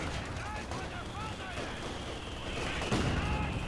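Mortar shells burst amid rattling gunfire during a muddy four-versus-four Company of Heroes 2 battle, with dull, fairly distant booms and crackling shots, heaviest near the end, mixed with a layer of voice-like sound.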